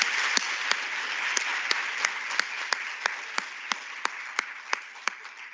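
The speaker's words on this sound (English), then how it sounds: "Let's give ourselves a hand of applause once more" Sustained applause from an audience at a CSIR career day event, a dense steady wash of many hands clapping with a few sharp, louder individual claps standing out at irregular intervals, continuing throughout.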